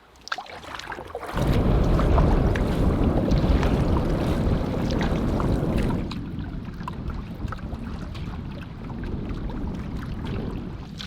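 Headwind gusts rush and roar against the microphone while canoeing on a remote Canadian lake, a loud, continuous buffeting that eases partway through but keeps blowing steadily, with no voices.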